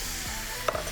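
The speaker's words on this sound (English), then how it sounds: "Let that sizzle away and then give it another flick." Sauce sizzles loudly in a very hot wok with vegetables, a steady close frying hiss with brief clinks and stirring scrapes near the end.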